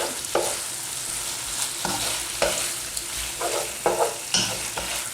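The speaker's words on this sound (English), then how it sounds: "And now we've got our thyme. It's gone in. Give that a stir." Fresh thyme being stirred into a sizzling pot of Jamaican goat curry, a steady frying hiss with regular scraping strokes of a spoon against the pan, close up and without speech.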